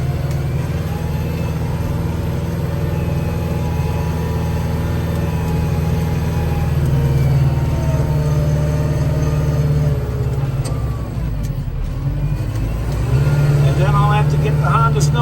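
Vehicles started and driven out of a garage during a winter storm, a steady low engine rumble with idling tones running throughout, fairly close and continuous, with shifting pitch as they move.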